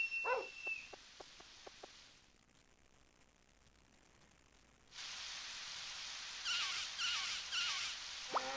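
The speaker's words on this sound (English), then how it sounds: "And it's raining again." Rain patters down steadily, a soft broadband hiss that drops away briefly then returns louder, with a few faint chirps over it.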